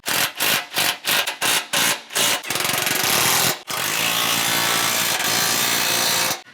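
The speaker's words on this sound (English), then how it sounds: "Now I'm going to tighten these 16s out on the side." Bolts on an Ironman 4x4 Raid rear bumper for a 2021+ Ford Bronco are driven with a power tool: about eight quick rattling bursts, then two longer continuous runs, loud and close with no voices.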